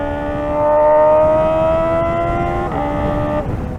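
Kawasaki ZX-4RR motorcycle with the exhaust baffle removed, holding a loud, sustained high-pitched exhaust wail at steady revs before the pitch dips and shifts near the end.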